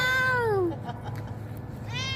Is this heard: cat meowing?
yes